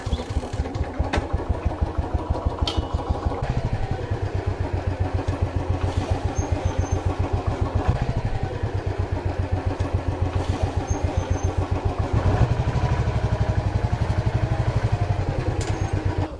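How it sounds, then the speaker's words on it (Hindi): A Royal Enfield Bullet motorcycle runs close by as it rolls over a smartphone in a durability test, its single-cylinder engine thumping in a steady rapid beat. Nobody talks over it. "हम यहाँ पे जो है रॉयल एनफील्ड बुलेट जो है इस फ़ोन के ऊपर से गुजारने वाले हैं"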